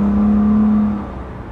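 A 2015 Nissan Murano's engine pulls steadily during a test drive, a smooth sustained hum with a steady tone that fades slightly toward the end, heard from inside the cabin with no talking.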